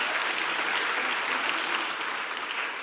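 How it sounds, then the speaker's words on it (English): Sustained audience applause for the Inganji dancers after their performance at a youth forum opening ceremony, steady and even throughout at moderate loudness with no voices over it. "Another round of applause for the Inganji dancers."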